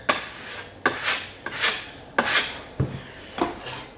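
A drywall knife scrapes joint mud across screw heads on a wall in about six firm, evenly spaced strokes, each a close, rasping drag with a sharp start, with no talking.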